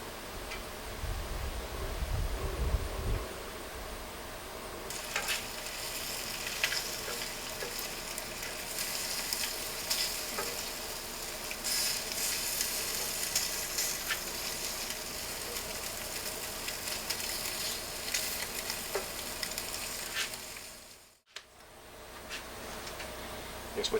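Garlic pepper bacon frying in a pan: a continuous crackling sizzle with scattered sharp pops, close and fairly even, with a brief dip near the end.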